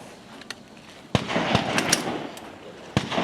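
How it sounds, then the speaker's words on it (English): Pistol shots on a women's shooting competition firing line: sharp, loud reports at irregular intervals, several distinct cracks standing out over a background of outdoor range noise. "Becky and Cheryl at the firing line, both on their pistol."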